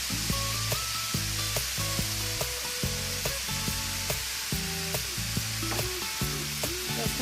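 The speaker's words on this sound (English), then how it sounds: "you want to cook your ground beef until it's all brown" Ground beef with seasoning mix frying in a pan, a steady close sizzle running the whole time with repeated scraping and stirring strokes as the meat is broken up and browned.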